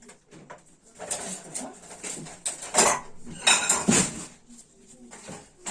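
A spoon stirs spices and red pepper in a bowl, making irregular clinks and scrapes of metal against the dish that grow louder in the middle, with quiet background sounds and no clear speech.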